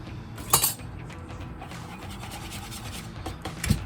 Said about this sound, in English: Now it's lumpy, but that's okay. We're just gonna mix it as best we can